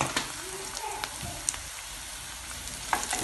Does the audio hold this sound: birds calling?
no